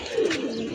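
A single soft, low coo from a kept pigeon, brief and close, with faint background hiss.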